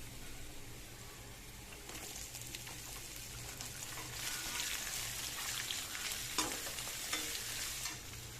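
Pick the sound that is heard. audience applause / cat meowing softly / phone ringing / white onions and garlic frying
white onions and garlic frying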